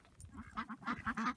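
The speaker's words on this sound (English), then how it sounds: "These ducks are pretty happy." Ducks quack repeatedly outdoors in the snow, on a homestead in sub-zero winter weather, in a run of bursts close by at moderate loudness.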